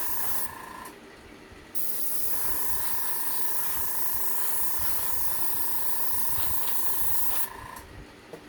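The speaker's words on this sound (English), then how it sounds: "It seems like it's responding to my airbrush." Airbrush spraying alcohol ink gives a steady close hiss that runs almost the whole time, with a short drop in the spray near the start and another near the end.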